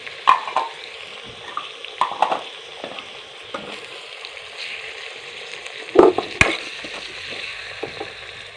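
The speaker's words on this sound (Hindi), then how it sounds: "अब इसमें टमाटर डाल देंगे हम।" Tomatoes and green chilies frying with onions in a pan for aloo mongray, a steady close sizzle broken by several louder scraping stirs, with no talking.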